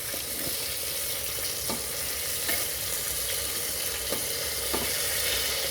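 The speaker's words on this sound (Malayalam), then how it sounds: "നമുക്ക് നമ്മുടെ കുക്കർ ഒന്ന് തുറന്ന് നോക്കാം. അതിനുശേഷം നമുക്ക് ഇതിൽ ഓരോ പീസും മറിച്ചിട്ട് കൊടുക്കണം." Steady loud sizzling of chicken pieces frying in hot oil inside a pressure cooker for broasted chicken, with a few soft scrapes and clicks as the pieces are turned.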